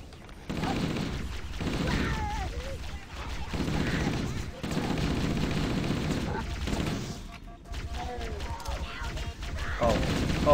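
Gunfire and explosions in Halo: Combat Evolved rattle in loud, dense bursts with short gaps, bright crackling shots and booming blasts close up, while a player talks and reacts between them.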